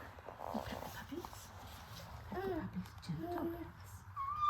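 Three-week-old schnauzer puppies give faint, scattered whimpers and small yips, close by, with rustling and some background murmur around them.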